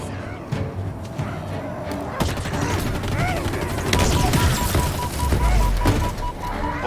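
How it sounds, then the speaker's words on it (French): Grenades thrown at pylons in the shooter game Halo Infinite produce loud booming blasts and rumbling impacts over continuous gunfire and game effects, with a low heavy explosion near the end. "il suffit de balancer des grenades dessus"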